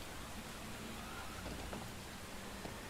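Steady rain hisses in Bus Simulator 21, a broad, even wash of patter with no breaks, moderately quiet and unaccompanied by voices.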